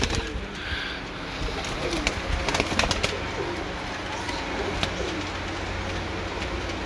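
Teddy breeder pigeons coo softly in a loft, low repeated calls under a steady background hiss, with faint scattered chirps.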